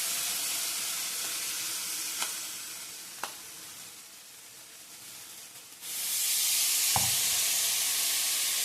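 Curd bread toast roasting on a hot griddle over low to medium flame, a soft continuous sizzle with a few light taps, swelling into a louder steady hiss near the end.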